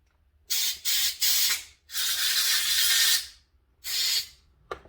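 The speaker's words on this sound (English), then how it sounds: "I'm just going to run some compressed air through it." Compressed air blasting through a carburetor passage on a Champion generator, a series of sharp hissing bursts, two short, one longer and steady, then another short blast, loud and close.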